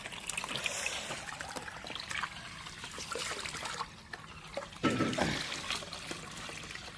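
Water pours from a pipe outdoors in a steady, splashing trickle that swells and fades, with a brief louder gush near the end.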